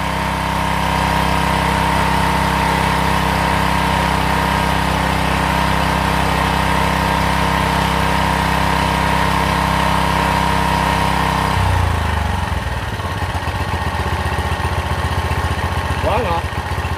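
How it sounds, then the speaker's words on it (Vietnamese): A Mitsubishi petrol engine driving a water pump runs close by, loud and steady, with a throbbing idle for about twelve seconds before the tone drops and it rattles on at a lower pitch. "Máy nổ khá là mạnh mẽ luôn nha anh em."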